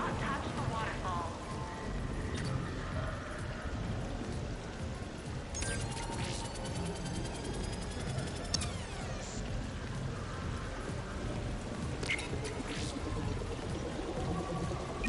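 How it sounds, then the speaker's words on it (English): A waterfall in Mass Effect 3 gives a continuous broadband pouring rush, steady and moderately loud throughout, with a few faint higher clicks and no talking. "Please do not touch the waterfall."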